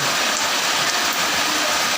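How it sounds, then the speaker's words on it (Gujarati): Very heavy rain pours down on a village in Junagadh district, Gujarat, making a dense, continuous roar with no breaks. "અતિ ભારે વરસાદ વરસી રહ્યો છે"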